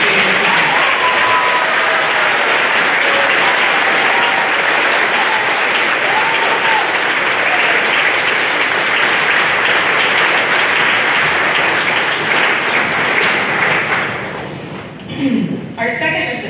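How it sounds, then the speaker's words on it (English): Loud, sustained applause from a crowd at an eighth grade celebration honors an award recipient, steady and full for about fourteen seconds with voices and cheers woven in before it fades out. "She absolutely deserves not only this award, but a huge round of applause"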